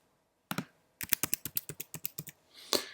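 Keys on a computer keyboard are tapped nearby while entering a name and password into an admin account setup. A single click comes first, then a quick run of about a dozen crisp keystrokes, with no talk.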